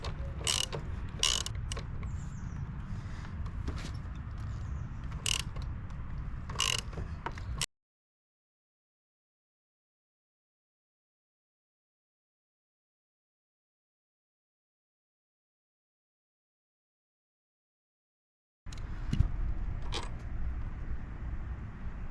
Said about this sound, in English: The clamp bolts we will remove, size 10, 2 bolts over here, 2 bolts on the other side